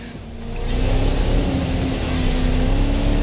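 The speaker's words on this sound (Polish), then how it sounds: "robię redukcję i gazu" A car engine in the video game The Crew 2 drones loudly, drops briefly on a downshift, then climbs in pitch as it accelerates, a continuous synthetic roar with no talking.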